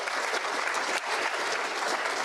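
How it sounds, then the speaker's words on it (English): Dense, steady applause from a Rotary club meeting audience, loud and sustained throughout with no talking over it. "you can applaud for that"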